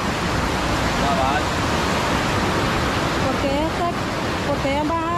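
Broadband roar of a river in sudden flash flood rushing past a cooking spot on the bank, loud and continuous throughout, with voices speaking faintly beneath the water noise.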